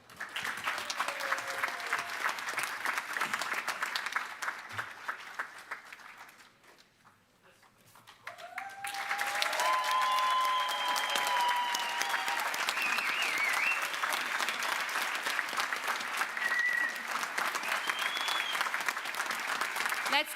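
Graduation ceremony audience at a University of West London event applauding in a sustained, dense round that dips briefly mid-way and then swells again, with faint voices beneath.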